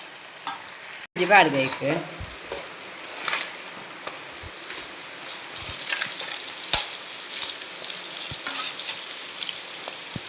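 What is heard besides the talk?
crab sukka frying in a pan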